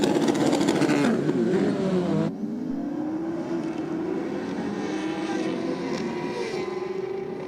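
Two BMW S1000 motorcycles on a drag strip scream at high revs, loud and close. The pitch climbs through gear changes, then the tone drops abruptly partway through and a steadier, fainter engine drone carries on with no talking.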